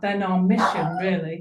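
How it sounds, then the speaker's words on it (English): A dog barks in the background of an indoor online talk, its sharp yips rising above a continuous speaking voice. "sorry about the dog barks if you're hearing them"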